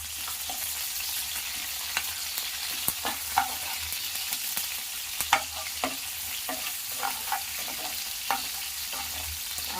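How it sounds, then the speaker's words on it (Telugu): Onions fry in oil for vegetable upma, a continuous sizzle broken by repeated spoon-stirring scrapes and clicks against the pan at an irregular rhythm, close and clear. "ఫ్రై చేసుకోవాలి."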